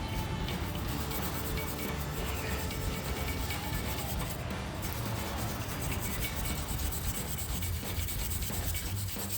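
Steady abrasive scrubbing as crud and debris are cleaned off a brake shield on a 2017 Silverado during a big brake kit installation; a continuous close rubbing sound with no pauses.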